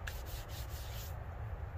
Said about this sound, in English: it was maybe like 20 minutes of sanding